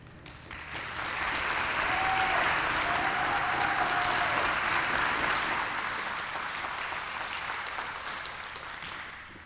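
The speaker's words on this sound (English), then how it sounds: "Junior Miss Jayden Randall, let's welcome her to the stage with a round of applause" At the 2021 Muscogee (Creek) Nation Scholarship Pageant, an indoor audience breaks into sustained applause, swelling quickly, holding steady and slowly tapering off, with no talking over it.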